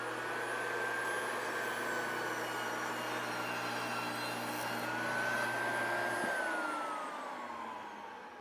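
Steady whine of a SawStop 10-inch jobsite table saw running through prefinished plywood, a continuous fairly quiet drone that spins down toward the end.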